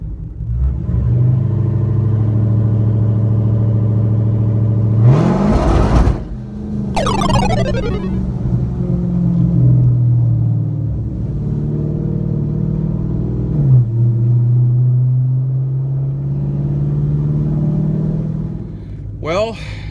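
A 1000-horsepower Dodge Charger Hellcat rumbles and revs at a drag strip, its engine droning loud and close with a sharp rising sweep midway and shifting tones, while a voice talks over it.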